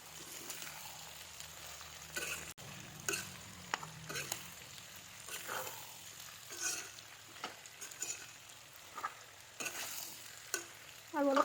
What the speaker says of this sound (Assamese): এতিয়া মিক্স কৰি দিম গোটেইখিনি লৰাই।